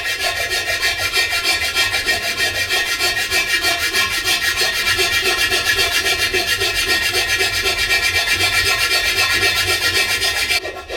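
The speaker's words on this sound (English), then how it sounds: "I like to try and use a hand file as best you can, because I find it easier to try and keep it flat with a hand file" A hand file rasps back and forth across a welded alloy wheel from an Audi S6, loud and close, with steady rhythmic strokes that continue without a break for the whole stretch.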